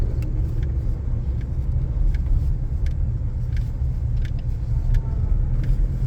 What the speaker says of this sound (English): That's a big rice truck that we're passing.